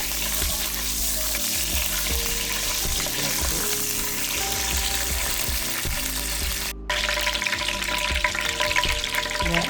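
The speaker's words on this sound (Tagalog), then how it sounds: "So guys, I'm adding 2 tablespoon of butter. I-melt lang natin siya guys." Two tablespoons of butter melt in hot oil in a pan, giving a steady, close sizzle and crackle that runs throughout, cut by a brief pause before the frying resumes loudly, with no speech.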